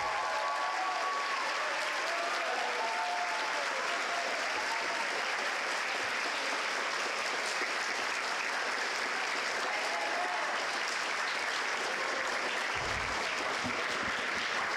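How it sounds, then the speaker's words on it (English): A large indoor gathering at a summer residential school awards event applauds its residence life staff, sustained even crowd clapping filling the whole stretch, with faint voices and whistles mixed into the steady roar. "please give your residence life staff a round of applause."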